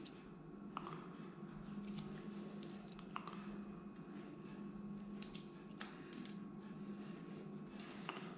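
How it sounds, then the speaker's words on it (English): Scissors snipping through a matted mixed-breed dog's fur, a string of small faint clicks and snips spread unevenly over a low steady background hum. "I'm going to take the scissors and"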